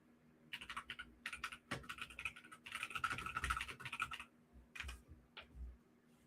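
Fingers type on a computer keyboard in quick, fairly faint bursts of clicking keystrokes with short pauses between them, and nobody speaks.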